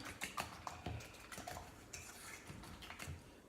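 Shredded cheddar being mixed into a bowl of frittata egg mixture, with repeated light clinks and scrapes of a utensil against the bowl in an uneven rhythm, close and fairly quiet.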